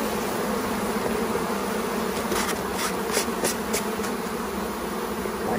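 A dense, steady hum of many honeybees buzzing close by during a sugar shake mite test, continuous throughout with no voices.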